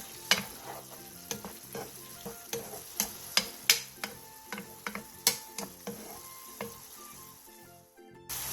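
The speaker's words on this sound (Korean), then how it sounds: "물이 바글바글 끓어오르면 청양고추와 대파를 넣고 중약불로 줄여" Water bubbles at a simmer with chopped chili peppers and green onion, crackling and popping in a brisk, irregular rhythm of sharp little ticks over a soft sustained tone.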